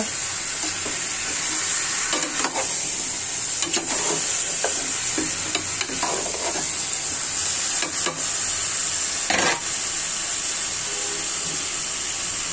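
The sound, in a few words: soy-marinated farm chicken frying in a pan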